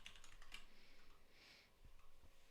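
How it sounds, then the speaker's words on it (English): Someone types on a computer keyboard while coding, with quick bursts of soft, close keystrokes and short pauses in a quiet room. "I'm typing this in the wrong spot"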